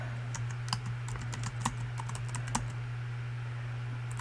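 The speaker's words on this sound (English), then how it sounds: "So I'm going to type it in all caps." Quick keystrokes on a computer keyboard typing a single word in capitals, a close run of light, irregular clicks with a steady low electrical hum underneath and no voices.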